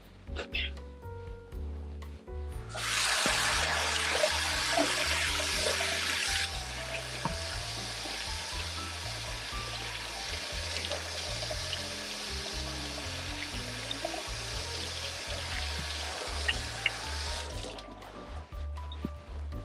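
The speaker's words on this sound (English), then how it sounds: "Let me wash my hands real quick." Hands being washed under a running kitchen tap while baking croissants: a steady hiss of flowing water lasting about fifteen seconds, with a louder burst at first, then softer rinsing and faint clinks.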